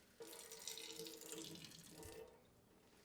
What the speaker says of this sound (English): now I'm going to rinse out my eyedropper